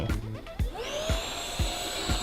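A vacuum cleaner runs steadily on a sofa, its motor drone holding a high whine while a rhythmic thumping pulses about twice a second as the nozzle works the cushions, close and fairly loud with no talk.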